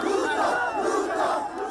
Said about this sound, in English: the crowd chanted pro-DP Ruto slogans as they castigated the BBI